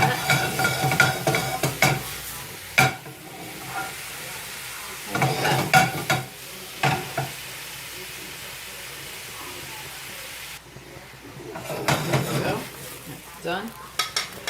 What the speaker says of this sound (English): This is a quick high heat saute, because mushrooms shouldn't be more than that.